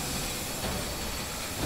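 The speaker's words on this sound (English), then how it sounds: "Steam? Not good. We need to turn the steam off." Steam hissing in the sci-fi horror game SOMA, a loud, continuous broadband rush filling the whole moment with no break, close and steady.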